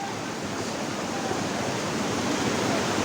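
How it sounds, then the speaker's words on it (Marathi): Palasdari waterfall near Khopoli during the monsoon, heard as a steady, loud, broadband rush of falling water that stays constant throughout with no voices. "पळसदरीचा धबधबा."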